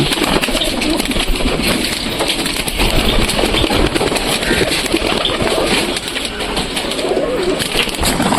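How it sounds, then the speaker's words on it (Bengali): A flock of pigeons being fed coos and flutters close by, a busy continuous burble with wingbeats and faint scattered voices. "তো কবুতরগুলোকে খেতে দিচ্ছি"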